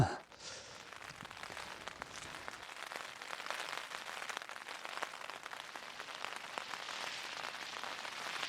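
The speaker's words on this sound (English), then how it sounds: "it's raining, it's chucking it down" Heavy rain drums on a tent in a dense, fast patter of close drops, steady and fairly quiet, with no talk.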